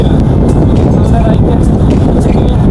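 A trawler boat's engine drones steadily while cruising near the Sundarbans, a dense low rumble under wind buffeting the microphone, with people talking over it.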